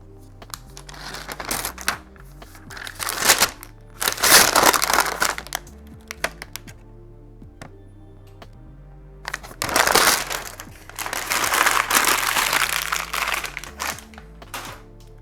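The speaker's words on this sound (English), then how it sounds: "And we'll just unwrap this bad boy here. Yeah, let's just unwrap it here." A MacBook Pro 14-inch M1 Max 24-core being unwrapped from its protective wrapping, giving loud, close crinkling and tearing in two long bursts separated by a quiet pause.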